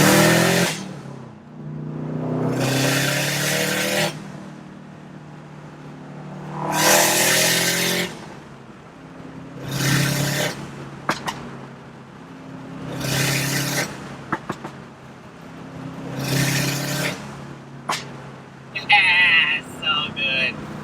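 A Subaru STI with a turbocharged engine pulls through repeated hard accelerations, each burst of rising engine roar followed by gaps, with brief sharp hissing releases from the blow-off valve between shifts near the end.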